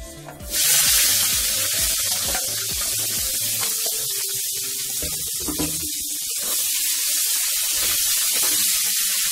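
Bay leaf, dried red chilies and chopped onion hit hot oil for tempering, setting off a sudden loud sizzle that keeps up as a steady crackling hiss.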